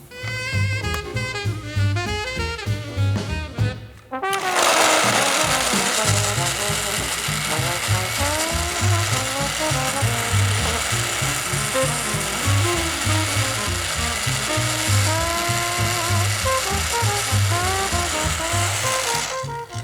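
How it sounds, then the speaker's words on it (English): A blender roars loudly at high speed mixing liver pâté ingredients with egg yolks, a steady whirring grind that runs for a long stretch after a short musical opening, with music still playing underneath. "We're gonna mix everything on high speed on the blender"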